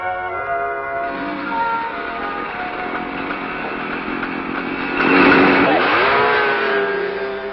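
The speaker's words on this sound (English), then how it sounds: "Now you see a new motorcycle zoom through on the test course built on the premises of the plant for speed tests." New Kawasaki motorcycle zooming along a factory test course, a buzzing high-revving engine that grows louder as it approaches, then its pitch drops as it passes close by.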